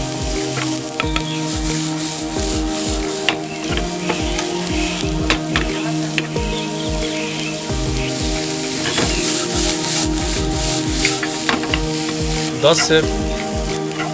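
Chopped beans and carrots sautéing in a pan, a steady sizzle with repeated scraping and stirring strokes close by, while a voice speaks briefly over the cooking.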